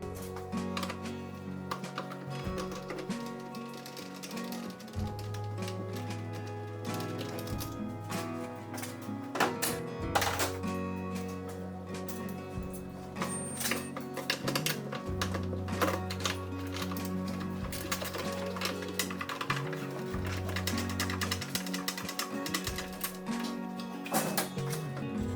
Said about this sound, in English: This can be unscrewed with an 8mm standard socket